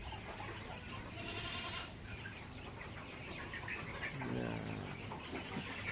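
Goats feed in a farmyard and one lets out a wavering bleat partway through, while chickens and birds call faintly around them.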